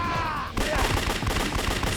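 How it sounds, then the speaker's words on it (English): Explosive gunfire-like blasts from a grenade launcher in the video game Yakuza 3 Remastered, a dense, loud burst of repeated bangs and crackling impacts filling the clip after a brief lead-in, with no talking. "He's launching grenades now at me?"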